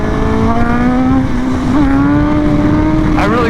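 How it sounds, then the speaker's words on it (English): A motorcycle engine revs hard and climbs steadily through second gear for a power-up wheelie, loud and close with a sustained rising drone and no talking. "I'll show you guys what I mean by a second gear power-up."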